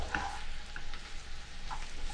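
Soft sizzle of mushrooms and onions frying in butter in a pan, with a few scraping stirs, quiet and close.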